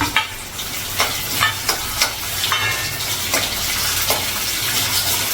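Onions sizzling and frying in a pan for pesarapappu rice masala upma, a loud steady crackle with a spoon stirring and scraping in repeated sharp strokes, close up and without talk.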